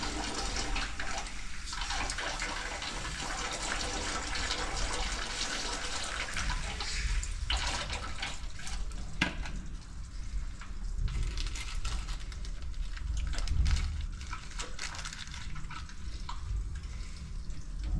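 Engine oil drains steadily from a BMW F31 335d/330d during an oil change, a continuous close trickling, pouring sound with no talk.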